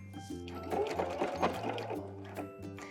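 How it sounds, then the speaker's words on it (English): A sewing machine stitches blazer fabric in a steady, close mechanical whirr with rhythmic needle pulses, running alone for a few seconds. "We're gonna sew, again, about 1/8 of an inch away from the edge."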